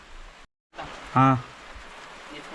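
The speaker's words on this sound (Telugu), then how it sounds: "ఫుల్గా వర్షం పడిపోతుంది" Heavy rain falls steadily in a tribal village deep in dense forest in Andhra Pradesh, a constant broadband hiss that cuts out briefly, with one short tonal call rising above the downpour.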